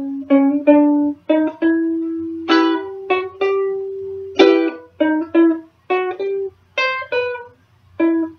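Ukulele plucking the second part of a theme riff, a run of clear, bright picked notes in short phrases with brief gaps, played close and alone with no talk.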